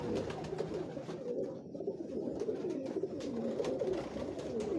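Tiger pigeons, a breed of dab pigeon, fill the air with close, continuous, overlapping throaty cooing that rises and falls in soft waves.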